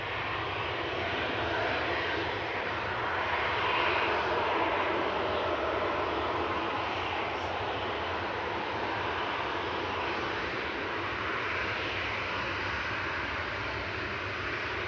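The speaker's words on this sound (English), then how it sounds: "Next in is Turkish Airlines A321." A Turkish Airlines Airbus A321 arriving at Manchester Airport gives a steady, broad jet engine roar that holds evenly throughout with no talk over it.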